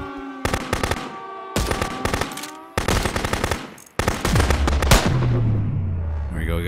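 Sniper rifle shots ring out in Contraband Police, a border-checkpoint video game: four bursts of sharp, loud, rapid cracks, each group ending abruptly, with a low rumbling tail after the last.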